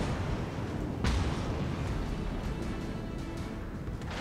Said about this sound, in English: I greet you with some torpedoes